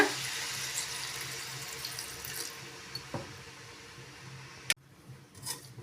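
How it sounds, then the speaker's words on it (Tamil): Water pours steadily into a pan of aloo methi masala, a soft continuous splashing stream, with a couple of sharp metallic taps near the end. "மசாலாவுக்கு தேவையான தண்ணியும் கூடவே சேர்த்துக்கோங்க"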